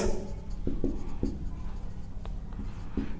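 Chalk or marker strokes on a classroom board during a Class 10 physics lesson on Ohm's law make several short, soft scratching taps in an irregular rhythm over quiet room tone. No one speaks.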